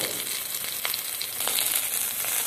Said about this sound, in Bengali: সমস্ত সবজি আমি হালকা করে ভেজে নিচ্ছি।